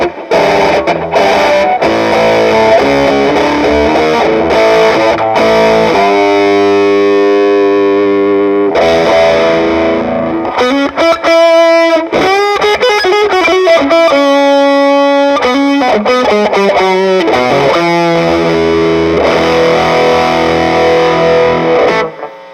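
An electric guitar through a fuzz pedal with the knob turned up to 9 plays loud, saturated riffs with bends and held notes. It sounds thick and distorted throughout, with no talking.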